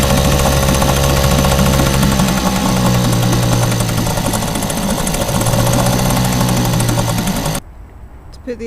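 A 707 yacht's inboard engine runs at low revs with a steady, rough, throbbing idle, loud and close, then drops away abruptly near the end.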